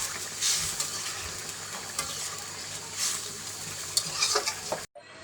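Pabda fish curry simmering in a pan on the heat, a continuous close sizzle with stirring scrapes and a few clinks before it cuts off abruptly at the end; no voices.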